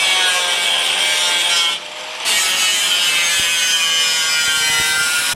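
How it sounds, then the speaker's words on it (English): A saw cuts steadily through a rusted floor section of an HJ47 car body. The harsh, loud rasping runs continuously, with a brief drop partway through before the cutting resumes. "So I'm going to cut that bit out now, cut along there"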